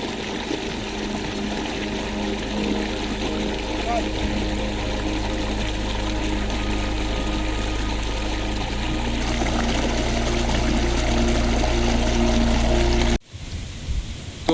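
Cold water of a Himachal Pradesh mountain stream rushes steadily over rocks near Kalpa, a close, continuous broadband roar with no voices, cutting off abruptly near the end.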